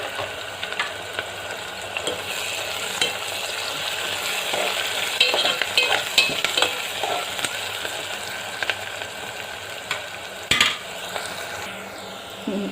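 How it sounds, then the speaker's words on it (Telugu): Curry leaves frying in oil for a gongura dish, a soft continuous sizzle with occasional light scrapes and clinks of a stirring utensil, fairly quiet and close. "అలాగే కర్రీ లీవ్స్ కూడా వేసుకున్నాము"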